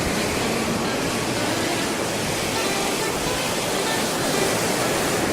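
Surf rolling up a beach at Lagos as the tide comes in, a steady loud wash of broad noise filling the scene without a break.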